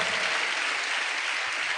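A church congregation claps hands during a praise service in Hyderabad, a steady, dense wash of applause that stays level and fairly loud for the whole short stretch.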